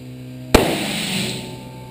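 A single sharp shot from a Kahr PM45 pistol test-fired with customer-supplied +P rounds on a gun having malfunctions, one loud close crack followed by a ringing decay, no talking.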